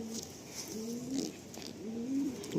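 Pigeon cooing in a loft, three repeated gentle coos in a steady rhythm, fairly faint, with light background noise between them.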